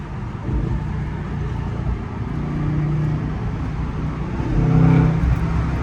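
A Dodge Hellcat's engine rumbles steadily close by, a low idling drone that swells slightly near the end with a faint rev.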